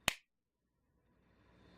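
A single sharp hand clap rings out close to the microphone, then quiet room tone follows.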